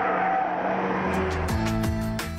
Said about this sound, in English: When you hit the brakes at that speed, you feel the seatbelt more than you'd like.